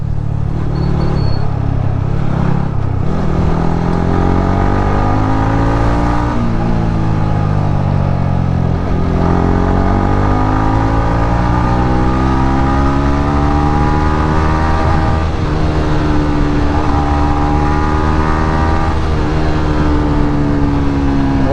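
A motorbike being ridden, its engine holding a steady loud drone with rising and falling pitch as it speeds up and slows, continuous throughout with no talking.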